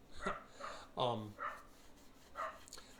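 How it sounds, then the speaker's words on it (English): A neighbor's dog gives a few sharp barks with short gaps between them, faint and heard from some distance. "I'm competing with the neighbor's dog for attention."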